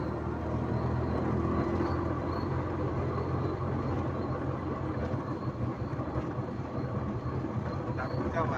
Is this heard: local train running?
yes